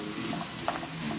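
Tomato, bell pepper and ají amarillo fry together in a pan, giving a soft, steady sizzle with a brief stirring clatter near the middle, all fairly quiet.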